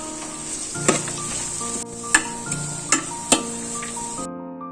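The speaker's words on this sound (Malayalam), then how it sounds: "സ്പ്രിംഗ് ഓണിയൻ ഇതൊന്ന് ചെറുതായിട്ടൊന്ന് ചൂടാവട്ടെ." Chopped spring onions sizzle in a hot pan for egg fried rice, a steady frying hiss with a few sharp clinks of a utensil against the pan, no talking.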